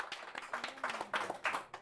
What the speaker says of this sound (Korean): 가장 낮은 사람들을 위해서 이렇게 써주시는 우리 저자님께 큰 박수 한번.